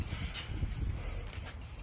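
LMR dye sprayed from a can onto Foxbody Mustang interior quarter panels, a steady close hiss running throughout with a few brief breaks in the spray.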